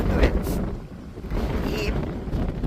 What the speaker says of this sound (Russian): Очень сильный ветер дует.